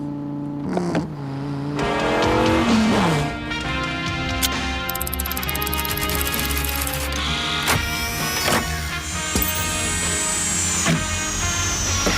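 Dodge Viper sports car racing loudly in a pursuit, its engine droning steadily with rising and falling pitch over about twelve seconds amid dense action-scene sound.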